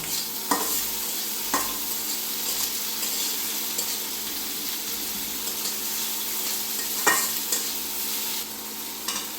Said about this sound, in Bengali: পেঁয়াজটা ভাজা হয়ে যাচ্ছে